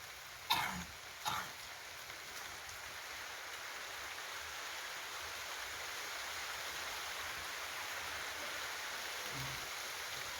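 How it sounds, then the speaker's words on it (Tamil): Steady rain falls outdoors at a rural spot where goats are being brought inside, a constant even hiss that lasts throughout, with two brief sharp knocks near the start. "ஆனால் மழை வருது பாருங்க. மழை பெய்யுது."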